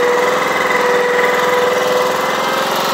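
A small loader's engine revs and runs at a steady, rattly pitch, close and loud throughout.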